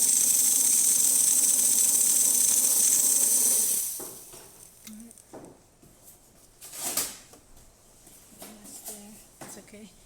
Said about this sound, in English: now that the machine's hot enough to produce steam